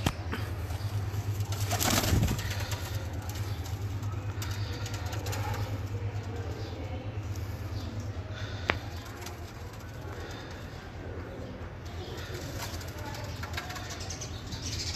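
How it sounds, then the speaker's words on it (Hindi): Teddy pigeons in a home loft, with soft cooing and a burst of wing flapping near the start over a steady low hum, then quieter shuffling and faint calls. "आज आपको सारे ही सलारे टैडी दिखा रहे हैं, ये सारे ही सलारे टैडी कबूतर।"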